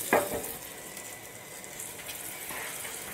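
Brinjal slices fry in oil in a pan at medium heat, a soft steady sizzle with a brief clatter at the start and faint crackles throughout.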